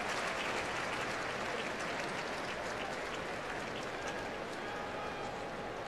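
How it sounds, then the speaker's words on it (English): Football fans at the Georgia Dome applaud during the 2014 Peach Bowl between TCU and Ole Miss, a faint, steady wash of distant crowd clapping and noise across the whole stretch. "Nice applause from the fans here as Tunsil has helped to that cart."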